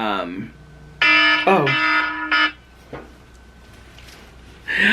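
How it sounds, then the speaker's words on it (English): An alarm sounds in loud, steady harmonic bursts, starting about a second in and lasting roughly a second and a half, then again briefly near the end. A voice can be heard before it starts. "I set an alarm in case I fell asleep."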